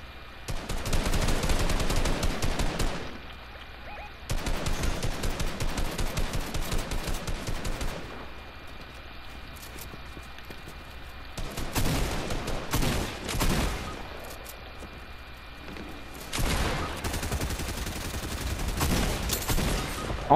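Fortnite gunshots arrive in long, loud bursts of rapid automatic fire, broken by short quiet gaps and then renewed volleys, with no talking over them.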